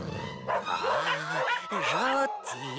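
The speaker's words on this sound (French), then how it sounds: "J'ai entendu des chiens" Small dogs yapping and barking in a Boule et Bill cartoon scene, several quick yips mixed with whimpers, close and loud under lively character voices talking over them.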